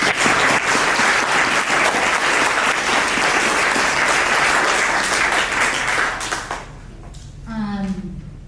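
After a talk at a synagogue event, a crowd gives loud, sustained applause for about six seconds. The applause fades out and a speaker begins talking.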